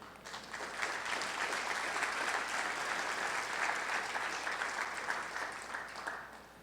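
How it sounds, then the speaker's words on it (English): An audience at an economic forum claps steadily. A dense, even patter builds quickly, holds for several seconds, then thins slightly at the end. It is fairly distant and soft. "Ray, they clapped for me."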